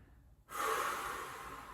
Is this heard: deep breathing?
yes